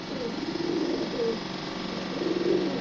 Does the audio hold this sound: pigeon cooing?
yes